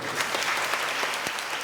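An audience at a parenting class claps together, a dense, steady patter of many hands with a few sharper claps standing out and no voices.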